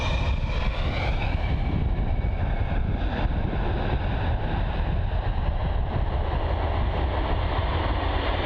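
A Jet2 Boeing 737-800 lands on runway 09 at Bristol Airport, its jet engines giving a loud, steady roar up close that holds throughout.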